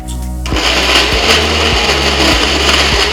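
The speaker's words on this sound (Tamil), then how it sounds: "இப்போ இஞ்சியும் புளியும் அரைக்கும் பொழுது நம்ம எடுத்து வச்சிருக்கிற கல்லுப்பு சேர்த்து அரைச்சிக்கலாம்" A mixer grinder whirs loudly and steadily up close, its motor pulsing in a regular rhythm as it grinds ginger, tamarind and rock salt into a thick paste without water.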